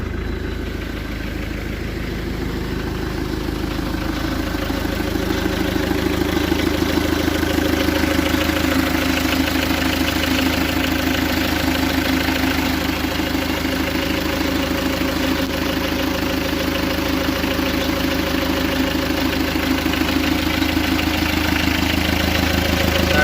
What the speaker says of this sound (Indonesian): Nah, baru kita starter guys. Suaranya khas diesel ya guys ya.